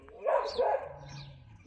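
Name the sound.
white stray dog barking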